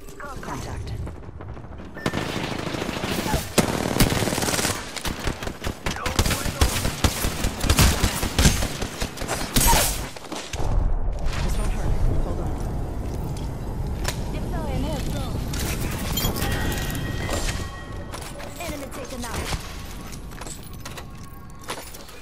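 Bursts of automatic gunfire in a first-person shooter video game, loud sharp cracks in rapid clusters through the first half, then thinning to scattered shots over ambient game noise, with a voice talking in places.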